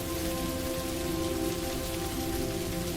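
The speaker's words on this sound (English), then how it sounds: "The rain settled into a steady rhythm, a comforting and consistent patter against the roof and windows." Steady, dense rain patters continuously on a roof and windows, an even hiss of drops with no pauses or other sounds.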